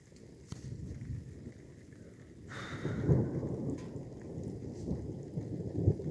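Thunder rumbles low and distant during a thunderstorm, swelling midway over a steady hiss of rain, with no voices.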